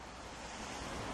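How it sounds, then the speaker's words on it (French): Wind blowing outdoors in an Irish village, a steady, full rushing roar that stays even and loud throughout with no voices. "Le vent, le vent, le vent."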